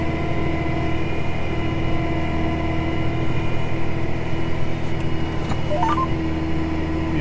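A John Deere 8345RT tractor engine drones steadily while planting, a constant loud low rumble with a brief higher whine near the end.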